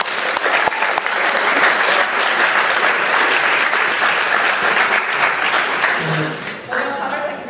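Audience applause at a junior debating competition, loud and sustained, a dense wash of many hands clapping nearby for several seconds before tapering slightly near the end.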